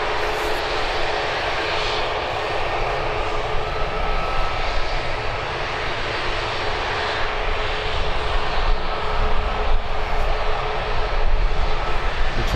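An ATR turboprop airliner arriving at Birmingham Airport, its engines giving a steady, loud drone with a broad rushing roar that holds level and builds slightly toward the end, with no talk over it.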